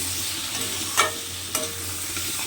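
Masala for an egg curry stir-fries in a pan with a steady close sizzle, and a spoon scrapes through it twice in short sharp strokes.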